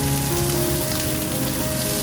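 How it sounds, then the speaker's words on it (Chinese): Green beans stir-fry in a little corn oil in a wok over medium heat, a loud, dense, steady sizzle with a faint hum underneath. "锅里倒入一点玉米油，油不用太多，中火热锅，先放入四季豆"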